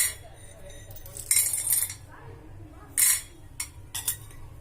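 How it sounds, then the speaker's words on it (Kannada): A spoon scoops roasted gram into a cooking pot, giving several light metallic clinks and scrapes in short bursts against a quiet kitchen background. "ಈ ಚಮಚದಲ್ಲಿ ನಾನು ಎರಡು ಚಮಚದಷ್ಟು ಪುಟಾಣಿ ಹಾಕೊಳ್ತೀನಿ"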